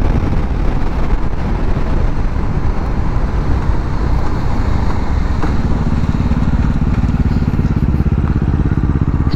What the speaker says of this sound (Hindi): देखो बार बार इसमें भी लिमिटर आने लगा